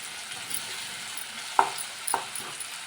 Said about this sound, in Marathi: टमाटा आणि कांदा नीट परतून घेऊयात.